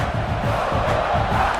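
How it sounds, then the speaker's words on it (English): A fired-up stadium crowd roars at a Clemson football game, a dense, steady wall of cheering and shouting with no single voice standing out. "It's early, but this crowd is fired up. Listen to this noise here."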